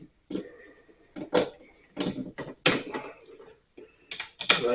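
Repeated ratcheting clicks and mechanical clatter from a torque wrench tightening bolts on a water heater, coming in irregular bursts up close.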